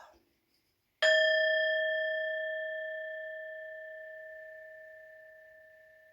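A single bell struck once during a tarot reading rings out with a clear, pure tone that decays slowly over several seconds, alone in a quiet room after a brief murmur beforehand.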